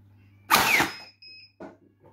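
An X-Shot motorized piston pump toy blaster is switched on and fires, a short loud whirring mechanical burst followed by a couple of fainter clicks over a low steady hum.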